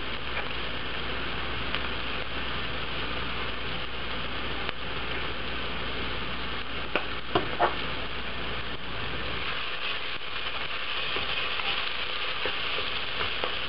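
Grated ginger and ground black pepper are stirred into sizzling onions in a frying pot, giving a steady close hiss with occasional soft scrapes and clinks of the spoon.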